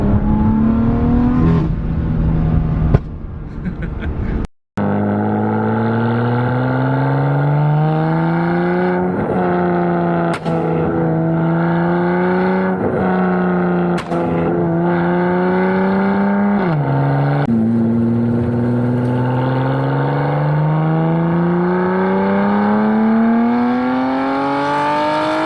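A car running a new flame tune from F80 Paul, loud and close, revving in long rising and falling sweeps with a brief cut near the start and sharp pops between pulls.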